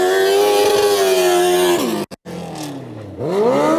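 Race motorcycle engine at IMS during a winter series race, revving loud and close on the rev limiter, a steady high buzzing drone broken by a brief cut, then dipping and climbing again.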